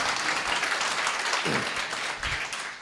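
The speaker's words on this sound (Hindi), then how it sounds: "वाह, एक अच्छी ताली बजा के प्रभु को धन्यवाद" An audience at a church conference in Mumbai applauds in a dense, steady burst of clapping that carries on without a break for a few seconds.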